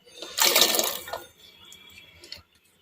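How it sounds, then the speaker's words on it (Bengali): Washed taro stolons drop into a pot of water seasoned with salt and turmeric, making a brief close splash followed by softer sloshes and small drips. "ধোয়া কচুর লতিগুলো দিয়ে দিলাম"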